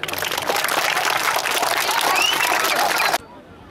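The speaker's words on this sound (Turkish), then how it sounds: "Kendinizi güçlü bir şekilde bir alkışlayın." Dense, steady applause fills a hall at a youth gathering in Erdemli, a loud unbroken wash of clapping with faint voices underneath that stops abruptly near the end.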